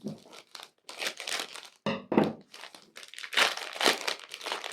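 Crinkling and tearing of a plastic biscuit bag being ripped open, crisp irregular bursts close by, with brief sharp rips.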